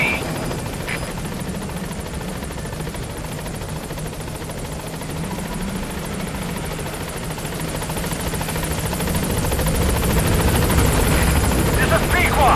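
Pequod helicopter in Metal Gear Solid V approaches a landing zone, its rotor thrum steady and growing louder toward the end, with a voice speaking over it.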